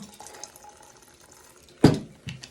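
Water poured onto fermented millet for tongba, a brief splashing gush after quiet handling sounds, close and short, with a smaller trickle following.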